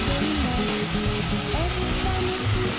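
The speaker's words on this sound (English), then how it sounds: "I'm going to throw these into the pan." Chicken thighs fry in a hot pan, giving a steady dense sizzle and crackle throughout, with no voice over it.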